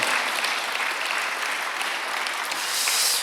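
A church congregation at a Sunday worship service applauds steadily, a dense wash of many hands clapping evenly and continuously throughout.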